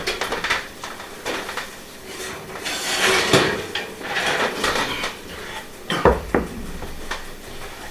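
Kitchen clatter as a tray of baked hot cross buns comes out of the oven: metal pan scrapes and clanks, an oven door or rack bangs, with a few sharp knocks scattered irregularly, close and fairly loud.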